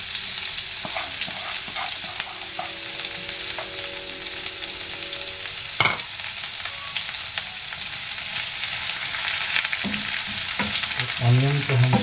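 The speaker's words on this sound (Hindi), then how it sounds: "तो ऑनियन को हम थोड़ा भून लेंगे।" Onions fry in a pan with a loud continuous sizzle and crackle, broken by occasional clanks of a utensil stirring, with a short faint tonal hum partway through and no speech.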